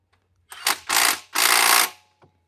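A small half-inch Milwaukee power tool firing in three short bursts, the middle and last ones longer, loud and close in a quiet shop, with no talking.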